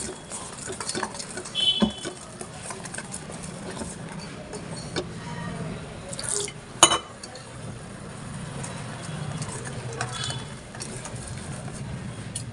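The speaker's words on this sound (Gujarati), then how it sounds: "પાણી રેડી અને એનો બેટર તૈયાર કરીશું" Gram flour batter for methi pakoda is mixed with water in a bowl, producing soft, quiet scraping and stirring with occasional light clinks of a utensil against the container.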